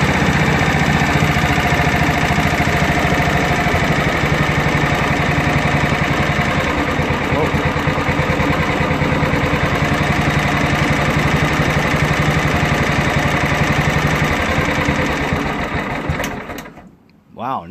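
The engine of a John Deere STX46 lawn tractor idles steadily and loud with a fast, even mechanical chatter, then dies away near the end.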